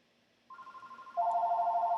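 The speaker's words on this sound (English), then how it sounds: "I'm sorry, that is the phone." A telephone starts ringing indoors with a steady electronic trill, then jumps to a louder, lower-pitched tone partway through, pulsing rapidly and close by, with no talking.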